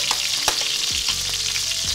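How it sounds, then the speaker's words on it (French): Broth poured into a hot pan for a chicken and morel cream sauce, giving a steady bright sizzle throughout with a few soft clinks and stirring knocks, close and without talk. "On va récupérer tout le bouillon. On verse dedans."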